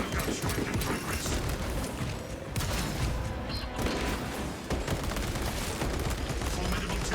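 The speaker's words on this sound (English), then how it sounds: "Servo gun strike in progress." A servo gun firing in Space Marine 2 within a dense wall of game combat noise, continuous bursts and booms layered together at constant loudness, with a brief dip midway before the barrage resumes.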